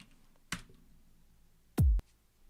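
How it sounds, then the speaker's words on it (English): A big EDM kick drum sample called Kick Arena, played forward, hits once with a deep booming thump over a quiet background, with a fainter click earlier. "This is Kick Arena, which is like my go-to kick sample."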